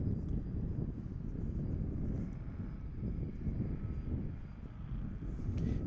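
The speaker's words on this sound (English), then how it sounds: "Here goes the MD-11." A McDonnell Douglas MD-11 airliner passes at DFW International Airport, a steady, broad jet roar that holds at a constant level throughout with light wind noise and no talk.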